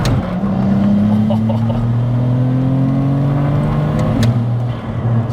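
A B58-swapped BMW E92 330d pulls hard under acceleration, engine note rising steadily, then dips briefly around a quick gear change before carrying on, loud and close from inside the car.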